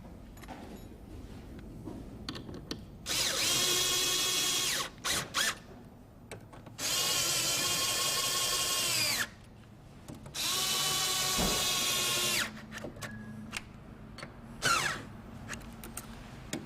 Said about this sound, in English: I normally like to take them up with a rattle gun